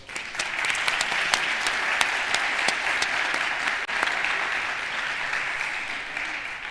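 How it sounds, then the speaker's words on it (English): A crowd at a Madrid startup event, IE Venture Day, applauds in a steady, full burst of clapping that holds at an even level throughout, with a few sharper claps standing out. "Please join me in giving a big round of applause."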